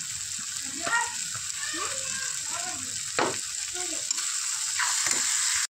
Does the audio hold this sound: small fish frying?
yes